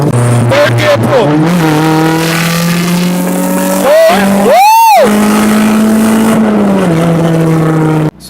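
A Honda Civic engine pulls hard in third gear, loud and close, its tone climbing steadily with a brief dip and surge midway as revs rise again before cutting off at the end.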